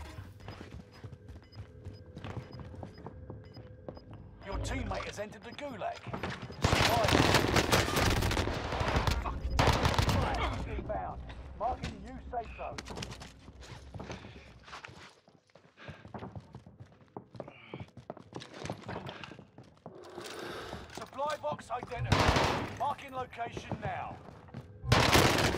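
Gunfire in the video game Warzone, with loud bursts of rapid automatic fire and single shots, dense and near in stretches, mixed with footsteps and intermittent talk.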